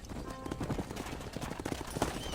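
Horse hooves clip-clop in Red Dead Redemption, a quick uneven rhythm of close, moderately loud hoofbeats, with no talk over them.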